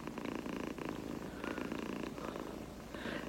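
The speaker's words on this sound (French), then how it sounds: "Puis il ronronne." A cat purring softly and close by, a steady low rhythmic rumble that pulses with each breath, quiet and alone with no talk over it.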